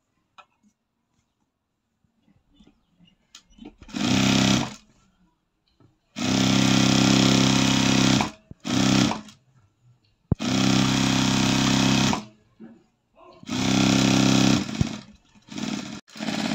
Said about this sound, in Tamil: கீழே லைனிங் அப்படியே மடித்து அடிச்சுக்கலாங்க.